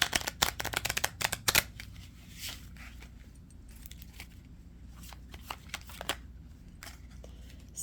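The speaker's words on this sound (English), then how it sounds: "Let me pull a few of these other cards." A tarot deck is shuffled and handled up close, with quick riffling card flutters at the start followed by softer intermittent rustles and taps.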